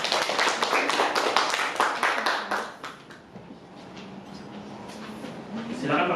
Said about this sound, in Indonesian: kita beri tepuk tangan untuk kelompok 1 presentasi